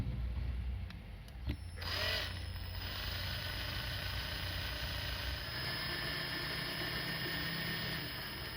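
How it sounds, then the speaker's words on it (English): A power drill bores out the base rivets of a Dinky Toys Bedford AA service van, die-cast metal, with a steady, close whirring grind and a brief bite near the start, running continuously at moderate level. "So I'm going to drill out the base."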